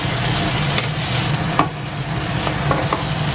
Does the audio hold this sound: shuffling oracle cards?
no